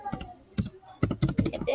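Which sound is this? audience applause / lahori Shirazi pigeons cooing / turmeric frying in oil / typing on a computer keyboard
typing on a computer keyboard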